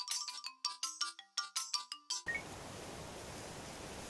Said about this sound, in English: Kiryu proceeds to get a convenient phone call from the kidnapping man.